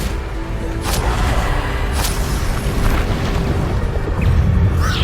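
A Descendo spell lands in Hogwarts Legacy with a loud, dense booming crash that rumbles continuously through the whole stretch, with a couple of sharp bright cracks near the start.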